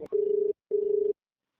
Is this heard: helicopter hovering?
no